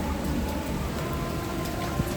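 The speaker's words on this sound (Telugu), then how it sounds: "భలే హెవీ రెయిన్ వచ్చేసింది." Very heavy rain pours down in Ameerpet, with water pooling on a balcony. It is a dense, steady roar of rainfall, loud and unbroken throughout, with no voices.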